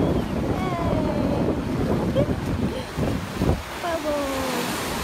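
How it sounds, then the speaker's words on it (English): Ocean waves and wind on the shore of Kauai, a steady broad wash with gusty wind buffeting the microphone and a person speaking briefly over it. "Ocean. More bubbles."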